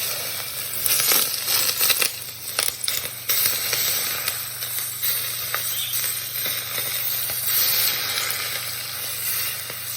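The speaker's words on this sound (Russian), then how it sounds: "Масло хорошо раскалилось, видите, немножко даже пошел дымок. И аккуратно, чтобы не обжечься, выливаем его на специи." Hot, lightly smoking oil poured over spices for Korean-style cabbage crackles into a loud, dense sizzle with sharp pops and clinks, continuing steadily and close up with no talking.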